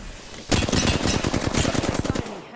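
Automatic gunfire in Apex Legends erupts into a steady, rapid burst of close, loud shots lasting about two seconds before cutting off, with no one talking.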